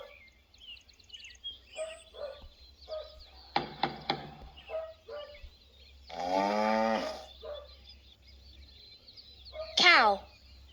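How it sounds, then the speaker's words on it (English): A cow lets out a loud, low moo in a farm-animal sound game, one sustained call near the middle, with a shorter higher animal cry after it and faint bird and farm sounds scattered around. "Cow."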